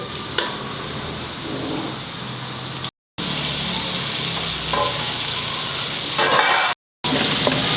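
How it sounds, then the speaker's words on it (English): Tomatoes braise in a hot pan for a dry fish curry, giving a loud, steady sizzle with occasional stirring scrapes. Two brief silent breaks interrupt the sound, and no one speaks. "Let the tomatoes get braised well."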